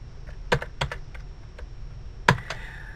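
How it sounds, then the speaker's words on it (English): Typing on a computer keyboard, a few sparse close key clicks in two short bursts, light and quiet against a low steady hum, with no talking. "what you're going to do is you're going to type in"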